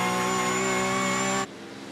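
Porsche 911 Cup car engine heard on board in a racing video game, a loud steady high-pitched engine drone held flat, then suddenly dropping off to a quieter rumble near the end.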